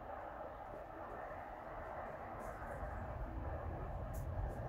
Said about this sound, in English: Can you hear that train?